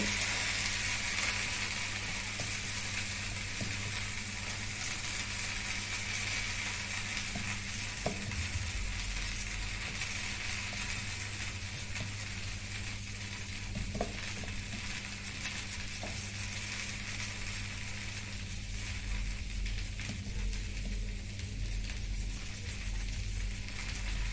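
Flatbread roasting with oil in a pan, a steady close sizzle and hiss that runs unbroken throughout, with faint scraping and clinks now and then.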